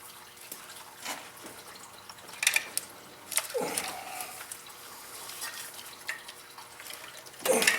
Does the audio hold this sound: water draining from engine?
yes